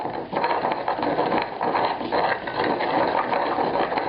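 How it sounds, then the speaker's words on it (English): Basil ground with coarse salt into a paste, a steady rough grinding and scraping, close and continuous with brief pauses, no voices. "Teaspoon of coarse salt. This is going to act as an abrasive. I'm going to go back to grinding this some more."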